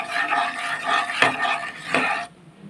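Turmeric powder being stirred into hot oil in a pan for shorshe ilish, a Bengali mustard hilsa dish: a steady sizzle with a few utensil scrapes against the metal, close by, ending abruptly.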